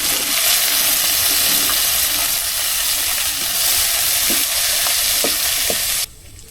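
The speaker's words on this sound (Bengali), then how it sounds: "এই যে পেঁয়াজ রসুন একসাথে দিয়ে মরিচ ভেজে নিতে হবে" Onion, garlic and dried red chillies fry together in hot oil, a loud, steady, close sizzle with faint stirring clicks that runs without talk and cuts off abruptly near the end.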